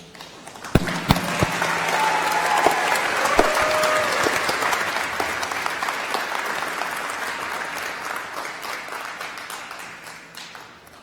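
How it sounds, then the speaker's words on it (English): An audience at a university commencement ceremony applauds the award winners, with sustained clapping from a large crowd that swells in quickly, holds steady, and slowly tapers off, a few sharp claps standing out near the start. "So let's all give the award winners another round of applause."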